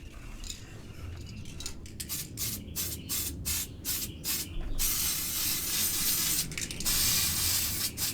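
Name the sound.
spray painting Traxxas Revo RC car body black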